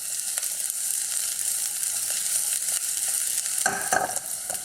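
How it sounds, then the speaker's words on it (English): Onions are tossed in very hot oil for a Chinese sweet chili pork rib dish, giving a steady, bright sizzle with a brief louder stir near the end. "I just want to toss these onions in this oil just for a few seconds."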